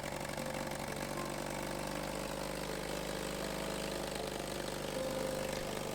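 The small gasoline pony motor of a 1956 Cat D6 9U bulldozer, which has trouble staying running, runs with a steady, even engine drone. It is close and continuous, with no voices.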